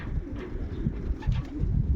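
Domestic pigeons at a loft coo repeatedly in soft, low, rolling calls, close by and overlapping with one another against a quiet background.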